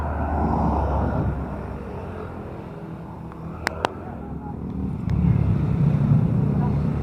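Several motorcycles pass along a road near Kamay ni Jesus in Quezon, a steady rumble of engines with rising and falling traffic noise, wind buffeting the microphone and people talking over it.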